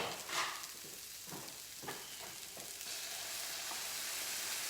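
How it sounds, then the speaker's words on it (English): Sizzling frying pan of breakfast hash being deglazed with a splash of kettle water, giving a steady hiss with a few sharper crackling bursts and scraping stirs, close and fairly quiet. "now I'm going to just loosen this off the bottom of the pan with a little bit of kettle water"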